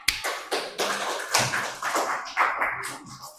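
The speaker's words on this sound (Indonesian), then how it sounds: "Tepuk tangan." Children in a classroom clap their hands together in a steady rhythmic pattern, sharp close claps repeating about twice a second.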